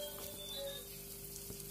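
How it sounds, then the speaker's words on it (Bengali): Potato strips for French fries deep-frying in hot oil, giving a faint, even sizzle with scattered small crackles, heard alone. "আমি ডুবো তেলে এগুলো ভেজে নিচ্ছি"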